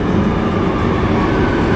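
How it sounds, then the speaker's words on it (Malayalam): A metro train at a station in Barcelona gives a loud, close, continuous low rumble with a broad roar and no voices, lasting under two seconds. "മെട്രോയിൽ ഇതേ ട്രെയിൻ വന്നുണ്ട്"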